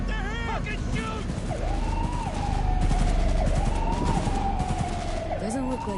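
Gunfire in the video game Cyberpunk 2077, rapid bursts of shots mixed with a wailing police siren and loud game ambience, with voices speaking over parts of it.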